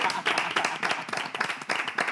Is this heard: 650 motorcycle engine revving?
no